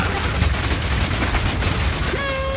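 Rapid Fire skill from a Mercenary character in Path of Exile 2, a dense, continuous crackle of rapid gunfire shots, loud and steady throughout, with a brief tonal ringing near the end.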